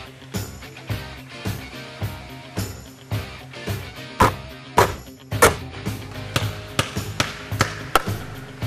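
A basketball bouncing, a run of sharp thumping hits that start spaced and evenly paced, then quicken and cluster near the end, heard close with no talking over them.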